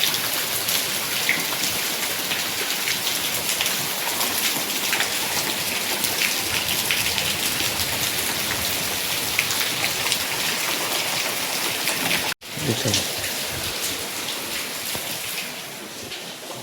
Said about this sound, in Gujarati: વરસાદ પણ ગાજે છે.